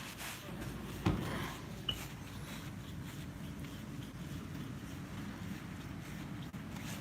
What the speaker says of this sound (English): I could hear the winds actually like blowing like crazy.